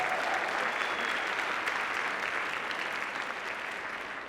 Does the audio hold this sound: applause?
yes